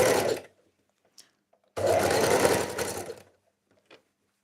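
Sewing machine stitching scrunchies in two bursts, one short and one lasting about a second and a half, close and clear, with faint clicks in the quiet gaps.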